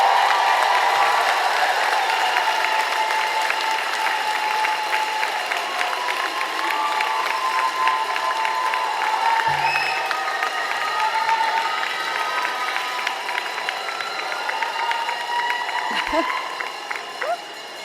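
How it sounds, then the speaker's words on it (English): A large audience at a nursing school commencement ceremony gives sustained applause, a dense wash of clapping with some cheers that holds steady before tapering off at the end. "Why don't we give all of our family and loved ones a round of applause?"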